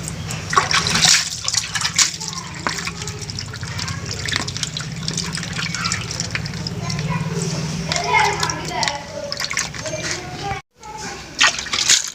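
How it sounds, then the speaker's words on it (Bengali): Chicken legs being rinsed by hand in a bowl of water for a village-style dish, with steady splashing, sloshing and dripping running the whole time and a voice heard faintly at points. "আমি আরেকবার ভালো করে ধুয়ে নেব।"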